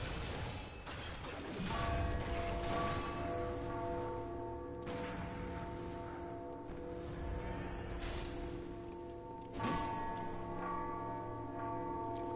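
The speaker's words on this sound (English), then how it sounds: "It doesn't have a clapper. It has, it's just like a bell meant for striking." A clapperless bell in a video game, struck about three times, each strike ringing out loud and then decaying into a long, sustained metallic hum.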